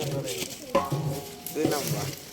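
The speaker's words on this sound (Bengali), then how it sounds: "সবজিগুলো কষিয়ে নেওয়া হবে এখন" Vegetables sautéed in a cooking pot at a home gathering, with scraping stirs and clinks of a spoon against the pot over a light sizzle, close by.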